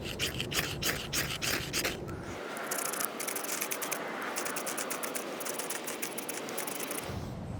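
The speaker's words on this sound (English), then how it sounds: "maybe the lock back will scrape it better" The lock back of a Buck 110 folding knife scraped against brass, first as quick rhythmic rasping strokes, then a steady, close, gritty scrape that runs on continuously.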